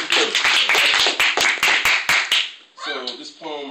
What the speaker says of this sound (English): let's get a round of applause for all the poets.